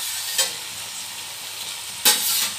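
Raw chicken pieces tipped straight into a biryani pot in a home kitchen, giving two short sizzling bursts over a low, steady background hiss.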